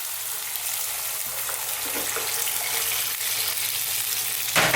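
Cold water hits a hot pan of browning beef for a curry, setting off a steady, close, hissing sizzle that holds for several seconds, with a brief clatter at the end.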